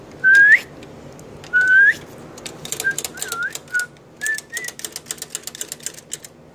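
Two short rising whistles from a person calling a German Shepherd, then several weaker, wavering attempts mixed with clicking and tapping sounds nearby.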